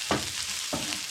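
Mixed herbs and paprika being stirred around a hot frying pan over a steady sizzle, with two quick scraping strokes of the spoon close by.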